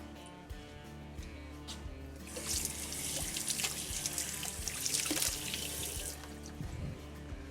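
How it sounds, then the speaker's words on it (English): Cold tap water runs into a sink to rinse seeds from poblano peppers, a steady hissing splash that swells after a couple of seconds and stays up for several more, over a low background hum and some faint clatter. "Another thing you can do is run it under some cold water to get those off too."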